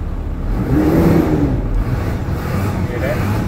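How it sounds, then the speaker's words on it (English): A diesel pickup truck engine revs up loud and close, with a rising whir over a heavy continuous rumble that holds steady afterward. "You hear that? That's a diesel motor."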